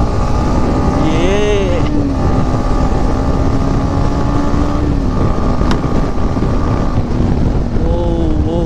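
A Yamaha MT-15 BS6 motorcycle runs hard on a night ride, its steady engine drone buried under loud wind rush, with a few brief rising tones near the start and end.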